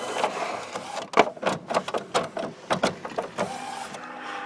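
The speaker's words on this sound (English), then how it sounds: "I'm going to print a nozzle check." An Epson inkjet printer prints a nozzle check pattern from an empty start, with a close run of rhythmic mechanical whirring and clacking bursts as the carriage moves. No one talks.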